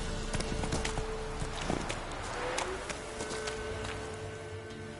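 Horse hooves galloping in The Witcher video game, a steady clip-clop rhythm running through the whole stretch under game music and ambience, fairly quiet throughout.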